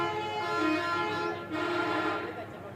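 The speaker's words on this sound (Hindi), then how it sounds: "हॉर्न हो गया।" A bus horn blares near Katra on the road to Vaishno Devi, one long loud tonal honk broken by a brief gap and then sounding again, close and dominant.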